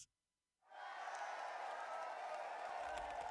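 After a brief silence, a crowd bursts into sustained applause with some cheering, steady and moderately distant.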